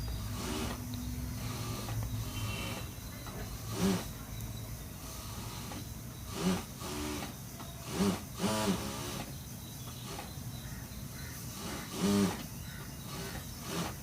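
A sewing machine stitches a blouse lining in short, separate runs. Quiet pauses fall between the stitching bursts, and the machine sounds close and moderately loud.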